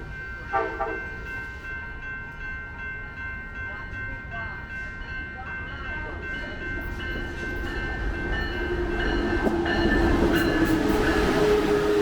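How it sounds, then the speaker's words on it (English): A train rumbles steadily along the rails in Kansas, the low roar building louder toward the end, with faint clicks and squeals above it. "what's making this even more fun is that we are taking a train"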